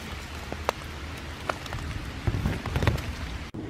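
Rain falling in a park on a July afternoon, a steady patter of drops on surfaces with scattered louder nearby splats, no voices.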